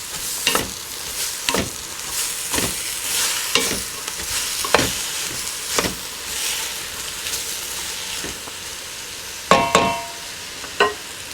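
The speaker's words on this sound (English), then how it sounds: "Cook your onions on medium-high heat until the onions are totally melted down for about 10 minutes, stirring from time to time." Onions frying over medium-high heat in a pan for French onion soup, a steady close sizzle broken by repeated scraping stirs at irregular intervals, with no talking.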